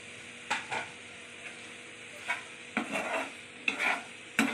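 Chopped tomatoes tumble into a frying pan with ginger, giving a few short sizzling bursts and scraping stirs spaced through a low, steady hiss, close and fairly quiet.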